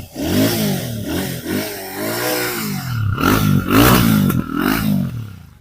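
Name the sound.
Royal Enfield Classic 650 motorcycle engine revving, exhaust note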